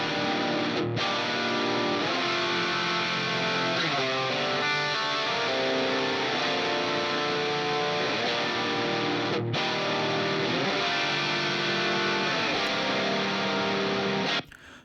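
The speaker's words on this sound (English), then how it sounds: "I have this drive guitar stack, which sounds like this" An overdriven electric guitar stack played through an Archetype Pliny amp model rings out in a dense, sustained, distorted wall of chords, loud and continuous, ending abruptly near the close.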